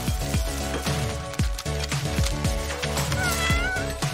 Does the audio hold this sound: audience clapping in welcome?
no